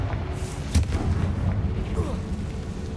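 In Hogwarts Legacy, a Confringo blasting spell bursts in one sharp explosive crack over low rumbling game ambience.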